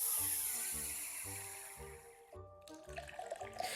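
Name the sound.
pouring vanilla Pepsi into a glass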